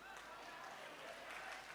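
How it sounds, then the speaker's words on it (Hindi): Street audience clapping steadily for a magician's trick, a dense, even patter of many hands at moderate distance. "हाय अल्लाह, ताली भी बजा रहे हैं।"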